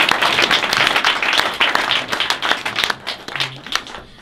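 An audience at a French film masterclass applauds, dense steady clapping that thins and fades toward the end, with a few scattered claps lingering.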